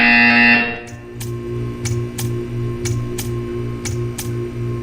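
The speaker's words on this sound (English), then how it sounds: "You will hear a buzzer. When you hear the buzzer, stare at the art." In the video game Portal 2, a loud electronic buzzer sounds briefly, then a series of evenly spaced ticking clicks follows over a low pulsing hum.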